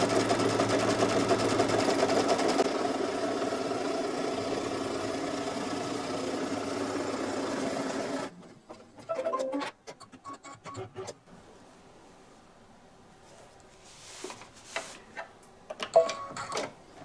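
An embroidery machine runs a placement stitch, its loud steady buzzing hum going for about eight seconds before stopping, followed by quieter clicks and short mechanical bursts.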